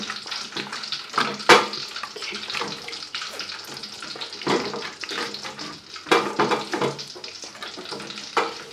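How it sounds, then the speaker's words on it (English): Water splashes and trickles into a cooking pot of seasoned assorted meat for a red stew, a steady wet pouring with a few sharper splashes and clinks across the whole stretch, close and fairly loud. "I've added a little water to my meat"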